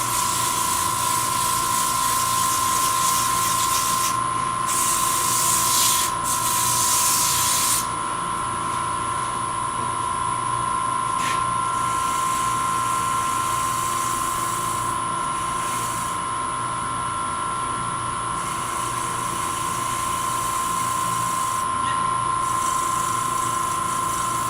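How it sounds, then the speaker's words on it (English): A wooden nesting box lid spinning on a lathe while it is sanded, a constant steady whine and hiss with a strong tonal hum and brief swells of brighter abrasive scraping. "So this takes longer to sand than any place else on this lid."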